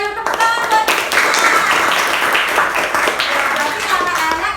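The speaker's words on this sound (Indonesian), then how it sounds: "tepuk tangan buat Krisna" Children in a classroom clap for their classmate Krisna after he answers correctly, a short lively patter of many small hands with voices mixed in, steady throughout.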